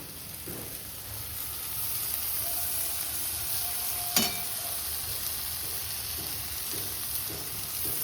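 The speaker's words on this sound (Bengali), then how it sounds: "এবার চিংড়ি ভাজাটা দিয়ে দেবো এর মধ্যে" Fried prawns are stirred into a taro leaf mixture in a pan, giving a steady close sizzle with scraping stirs, and a sharp clink near the middle.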